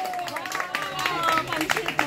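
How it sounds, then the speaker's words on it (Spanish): A few people clap for a duck named Panchito, a light scattering of handclaps under chatter and talking voices, brief and close. "Aplausos para Panchito."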